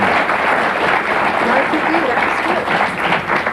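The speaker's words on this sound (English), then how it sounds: "Let's give these ladies a round of applause, okay?" A studio audience at a 1985 live Twin Cities television talk show applauds in a full, sustained round of clapping that stays loud and even from start to finish.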